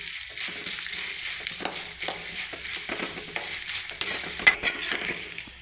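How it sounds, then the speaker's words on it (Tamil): Chana dal being sautéed in a pan until browned for a vallarai keerai dish, giving a steady soft sizzle with repeated stirring scrapes and light utensil clicks throughout, no talking. "கடலப்பருப்பெல்லாம் நல்லா பொறிஞ்சு ப்ரௌன் கலரில் மாறணும் அந்த அளவுக்கு கொஞ்சம் வதக்கிக்கணும்"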